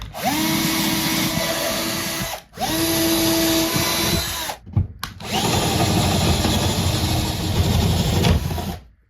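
Power drill boring large holes through a model railway baseboard, a loud close whine in long bursts with brief pauses between them and the sound of the bit grinding through wood.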